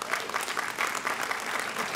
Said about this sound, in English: that was a good place to clap